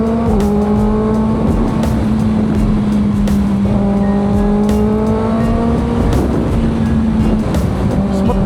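A Kawasaki ZX6R motorcycle engine on a night ride holds a steady, loud droning hum, rising and falling in pitch as the rider revs and shifts, with constant wind rush throughout.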